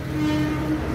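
A fourth-generation DL34 diesel locomotive on the Alishan Forest Railway runs light on a trial at the Chiayi rail yard. It gives a steady, close, loud diesel drone with a sustained tonal hum over a brief second.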